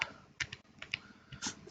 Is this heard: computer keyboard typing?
yes